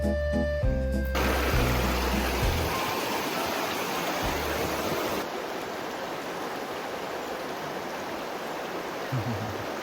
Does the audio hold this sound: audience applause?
no